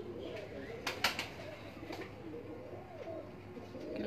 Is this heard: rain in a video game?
no